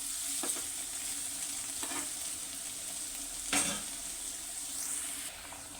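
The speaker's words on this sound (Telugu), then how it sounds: "క్యారెట్ ముక్కలు బ్రౌన్ కలర్ వచ్చే వరకు వేయించుకోవాలండి" Carrot pieces fry in a pan until browned, with a constant soft sizzle broken by a few sharp clicks of a spatula stirring against the pan.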